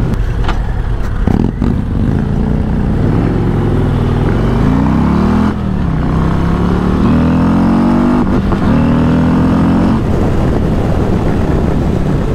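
A 2024 Harley-Davidson Road Glide CVO ST motorcycle engine revs up and down in strong, smooth sweeps, loud and close throughout, with brief dips between rising pulls and no talking.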